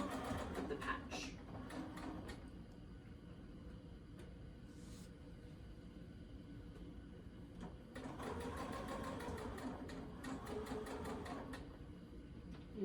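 A home sewing machine stitches around the flower edges of a patch to hold the fabric down on upcycled clothing, running in steady whirring bursts with a pause midway, close and fairly loud.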